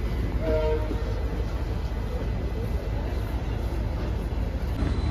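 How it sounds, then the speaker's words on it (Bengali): Hool Express pulling out of Andal Junction on its Howrah to Siuri run, a loud continuous rail rumble and wheel noise with a brief horn tone near the start. "ট্রেন ছেড়ে দিল, 1 মিনিট মতো দাঁড়িয়ে ট্রেন ছেড়ে দিল"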